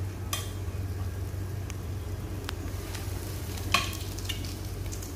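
Breaded white fish fillets frying in hot oil give a steady, fairly loud sizzle with scattered crackles and a sharper pop near the end, with no voices.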